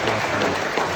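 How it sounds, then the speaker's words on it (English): A brief, dense wash of audience clapping at a community meeting, steady and fairly loud, lasting about a second with no pause. "I think is deserving of a round of applause"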